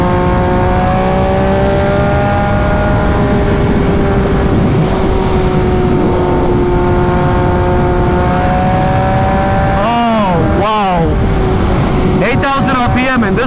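MV Agusta Brutale 800 RC motorcycle engine, loud and close, holding a steady high drone before sharp revving sweeps rise and fall near the end, with a voice briefly heard.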